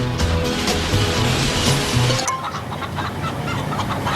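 A free-range chicken clucks in a TV car insurance advert, loud, repeated clucks over music and background sound, dropping to a quieter bed of sound partway through.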